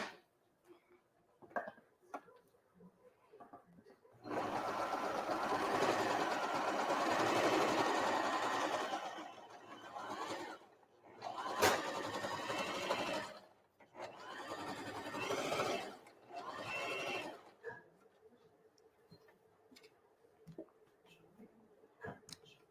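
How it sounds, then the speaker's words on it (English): A sewing machine stitches a heater bag in a kids' class, running in several bursts of steady whirring separated by pauses, close and fairly loud, with faint clicks between runs. "And we're going to keep on sewing."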